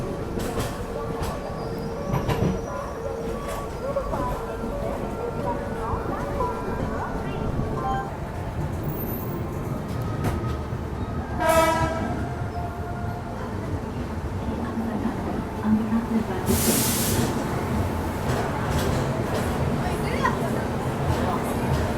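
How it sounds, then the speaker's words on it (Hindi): Bangalore Rajdhani train pulling into Secunderabad railway station, a steady rumble of rolling carriages with clanks and brief screeches, heard from on board with voices talking over it. "यहाँ 7:30 पे हमारी ट्रेन पहुँच रही है सिकंदराबाद रेलवे स्टेशन।"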